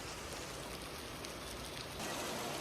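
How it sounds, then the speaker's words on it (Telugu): Heavy rain pours down near the Narasimha Swamy temple in Bidar, a steady dense hiss that swells slightly louder toward the end, with no voices. "ఫుల్ వర్షం పడుతుంది."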